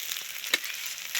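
Potatoes fry in ginger and garlic paste in a hot pan, giving a steady soft sizzle with a brief louder crackle partway through, close by.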